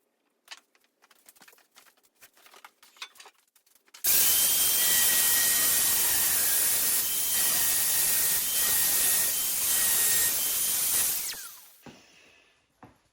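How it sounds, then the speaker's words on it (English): Angle grinder smoothing down a weld on the steel receiver of a VZ-61 Skorpion, a loud steady high-pitched whine running for about seven seconds before spinning down, preceded by light handling clatter. "I'm going to clean this up with a grinder real quick and make that flat"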